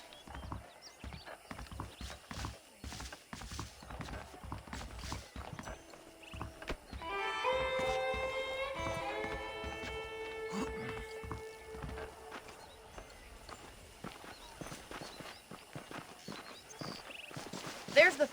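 Horse hooves clip-clop in Red Dead Redemption, a steady walking rhythm beneath game music and a horse's whinny, with voices talking over much of it.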